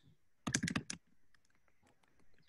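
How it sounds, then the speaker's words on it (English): Brief burst of quick typing on a computer keyboard, a rapid cluster of close clicks followed by scattered faint taps in a quiet room. "Sorry for the typing."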